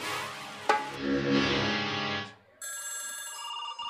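A telephone rings with a bright electronic tone that cuts in after a sustained humming passage, during a Kannada stage play.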